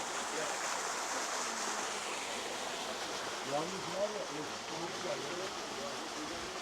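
Rushing water at Lovers' Waterfall in Sagalassos makes a steady broad hiss from a moderate distance, with a person's voice faintly heard over it partway through.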